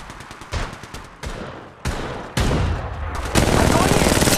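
Bursts of gunfire from the Apex Legends Mobile video game build in loudness, with several sharp volleys, then a dense, sustained roar of shooting close up toward the end.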